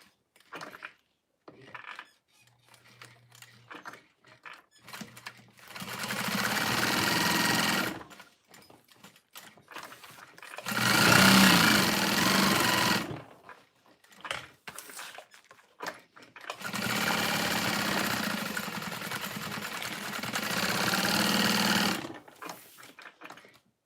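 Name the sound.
industrial sewing machine sewing pouches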